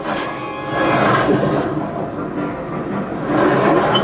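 Train in a Star Wars Millennium Falcon VR game rumbles and rolls past with a steady mechanical clatter, loud and close, swelling and easing over a few seconds.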